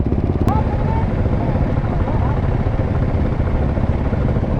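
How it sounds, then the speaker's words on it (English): A two-stroke dirt bike engine drones loudly and continuously as it approaches, a dense buzzing roar that fills the whole stretch with little variation. "2-stroke coming in."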